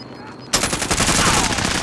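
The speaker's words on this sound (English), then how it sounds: "Sentry gun, sentry gun." Sentry gun in the Warzone battle royale game opening up with sustained rapid automatic fire after a half-second of quiet, loud and close, continuous bursts running to the end.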